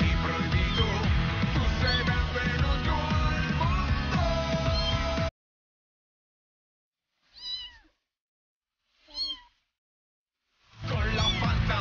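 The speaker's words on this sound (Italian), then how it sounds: "Che gattino dolce dolce" A young tabby kitten up for adoption gives two short, faint meows from close by, separated by silence, following a stretch of loud mixed sound.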